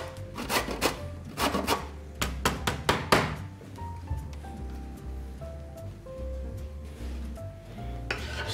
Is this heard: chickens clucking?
no